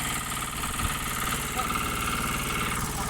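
A power tiller engine runs in a muddy rice field, giving off a steady, close mechanical chugging that holds without a break for the whole stretch.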